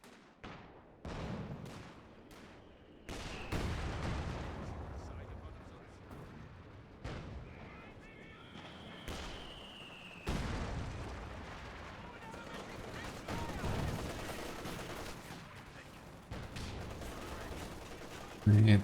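LMGs fire a sustained barrage in a competitive video game match, a long stretch of loud, rapid shots and heavy impacts that rise and fall in dense waves.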